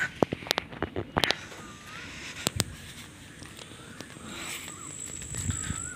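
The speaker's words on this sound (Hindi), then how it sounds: "ये देखिए कौवा," Several crows caw outdoors, some near and some farther off, over a soft breezy background with scattered light rustling.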